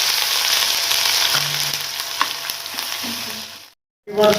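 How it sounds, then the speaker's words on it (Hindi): Ginger garlic paste fries in hot oil with a steady, close hiss that fades a little, a few spoon clicks in between, then a sudden brief gap before the sizzle comes back. "ये इसके अंदर 1 टीस्पून लहसुन अदरक का पेस्ट जाएगा, और इसे फ्राई करेंगे।"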